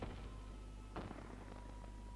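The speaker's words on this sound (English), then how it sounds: "Oh, fireworks! Here we go." Fireworks in the theme-park game Planet Coaster, a muffled boom around the middle followed by a few fainter pops over a steady low background drone.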